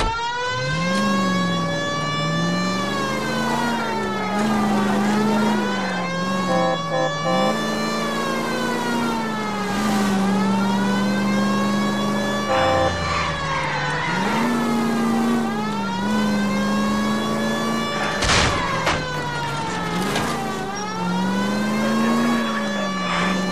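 A car engine revs in L.A. Noire while driving in a chase, rising and falling steadily and loudly throughout, with a wailing siren-like tone woven through the drone.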